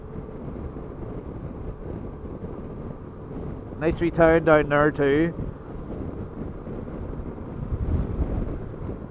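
Steady rushing wind buffets the microphone while riding a Yamaha Tracer 900 motorcycle on a cold day, a constant low roar under engine drone, with someone briefly speaking over it midway.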